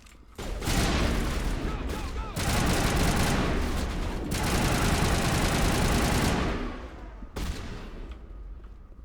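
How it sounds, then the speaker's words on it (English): Sustained heavy gunfire in the video game Mass Effect, with dense loud volleys of automatic shots that come in long bursts broken by short pauses before stopping near the end. "Open fire! Open fire!"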